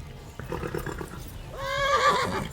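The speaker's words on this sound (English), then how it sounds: "The horse is getting agitated because I'm running it so hard." Muffled rhythmic hoofbeats give way to a loud, shrill horse whinny that wavers and fades out near the end, from a hard-ridden horse in the video game Kingdom Come: Deliverance.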